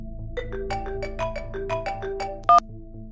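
A phone ringtone plays a bright, repeating melodic tune for about three seconds, fairly close and alone, ending with a sharper electronic chirp.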